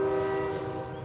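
A train horn from distant train tracks sounds a steady, sustained tone, moderately loud and unbroken, with no voices.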